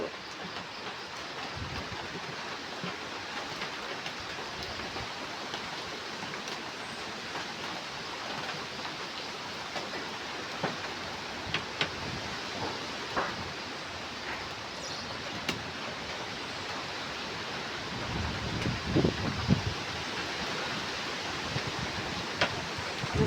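Steady roaring typhoon wind blows without pause, a dense rushing noise with occasional stronger gusts, no voices.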